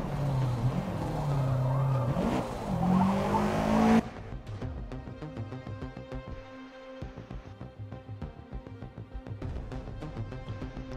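Road cars racing at Kyalami in Forza Motorsport, engine drone and tyre noise loud and steady for the first four seconds, then the mix shifts to a thinner, busier layer of engine tones and clicks for the rest.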